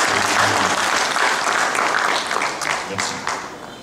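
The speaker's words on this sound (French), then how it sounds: "Vous pouvez bien applaudir la seule dame" Sustained audience applause fills an academic session room during a law thesis defense, a dense steady wash of many hands clapping that eases slightly toward the end.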